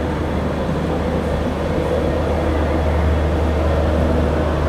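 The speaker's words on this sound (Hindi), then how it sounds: "अपनी पुरुषोत्तम एक्सप्रेस अपनी फाइनल डेस्टिनेशन पुरी अराइव कर रही है" Purushottam Express passenger train pulling into Puri station, a steady loud rumble of rolling wheels and carriage noise with a deep low hum throughout, continuous and close.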